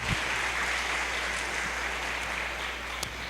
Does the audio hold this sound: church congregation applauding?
yes